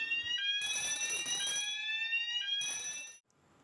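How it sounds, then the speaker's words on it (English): Fire alarm sounders on a Kentec Sigma XT fire panel system with Novec suppression ring out in loud repeating electronic tones, bursts of harsh bell-like noise layered over them, ending abruptly. "at this point you'll hear the bells going constant as well as the sounders"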